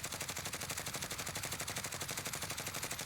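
Rapid automatic fire from a Grau 5.56 rifle in Call of Duty, a continuous evenly spaced stream of shots with a quick regular rhythm, close and steady for about three seconds.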